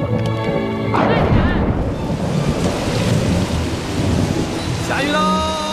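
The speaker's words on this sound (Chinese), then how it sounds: "下雨了，赶紧跑啊！" A heavy thunderstorm with pouring rain drenches an outdoor scene in a drama, a loud rumbling thunderclap rolling through a continuous dense downpour, with people shouting over it.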